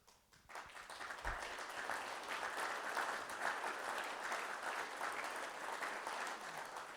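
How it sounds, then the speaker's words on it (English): An audience at a volunteer fire company gathering in Waverly breaks into applause, starting after a brief pause and holding as steady, fairly distant clapping for several seconds. "I was wondering when you were going to clap."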